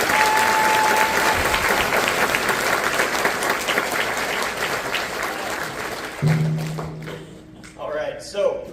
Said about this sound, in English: how about one more round of applause for our 7th graders